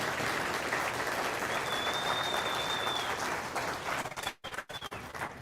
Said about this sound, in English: So please give a round of applause for all of the